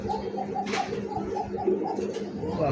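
Koka breed pigeons coo in a rhythmic series of soft, repeated calls, fairly close and moderately loud, with a faint background murmur and no clear speech.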